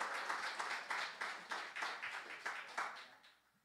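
A church congregation claps together during a sermon, a brief burst of applause at moderate distance that fades out toward the end.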